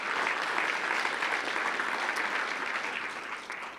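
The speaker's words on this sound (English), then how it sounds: "please, another round of applause for all of the presenters today and all the startups that you saw this morning" A tech summit audience gives a round of applause for presenters and startups, dense continuous clapping from a large crowd held at an even level throughout.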